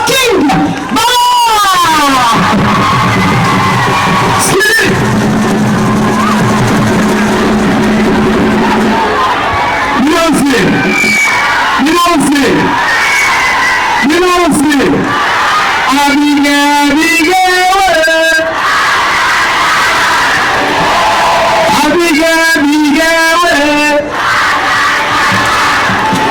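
Large crowd at an official programme launch event shouting, cheering and acclaiming in loud repeated waves of voices, with an amplified announcer calling out over the noise throughout.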